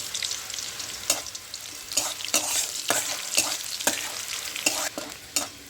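Dried red chillies and panch phoron spices frying in hot oil in a pan, a close hissing sizzle punctuated by repeated bright scrapes and clinks of stirring.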